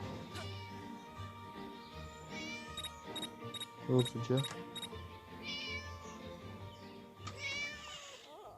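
Cat meowing inside the video game Scary Teacher, several rising, drawn-out meows at intervals over game music, with a person talking quickly over the top.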